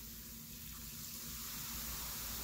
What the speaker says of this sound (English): You can just pour as much as you'd like.